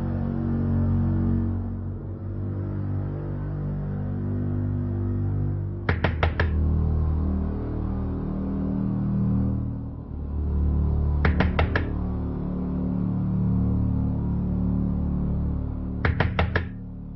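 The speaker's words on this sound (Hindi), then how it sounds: "नैना दरवाजा खोलो" Someone knocks on a house door at night in three separated bursts of quick raps, each a short cluster of sharp knocks, over a low steady background hum.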